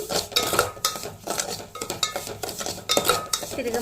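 Semolina in ghee being stirred in a metal pan, with quick irregular scrapes and clinks of a spoon against the pan close up and only a faint sizzle underneath.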